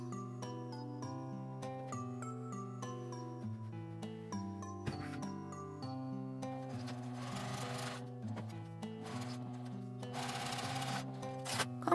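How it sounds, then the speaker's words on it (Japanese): A sewing machine edge-stitches both sides of a folded fabric strip that will hold a D-ring for a bag's shoulder strap, running in steady bursts beneath continuous melodic background music. "内側に向かって折って、両端に端ミシンをかけます。"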